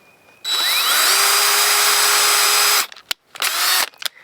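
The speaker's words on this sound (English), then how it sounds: "I'm drilling the pilot hole towards the bottom of that hole" Power drill driving a pilot hole into wood for a goat-proof wooden gate, close and loud, spinning up to a steady high whine for over two seconds, then a few brief trigger bursts with short pauses between.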